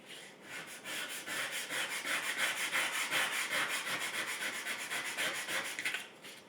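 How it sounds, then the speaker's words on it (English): Sandpaper rubbing back and forth over a plastic sheet to work out a nasty scratch, a steady close rhythmic rasping of quick strokes that runs continuously and then stops, with no talk. "I'm gonna try and sand that out a little bit."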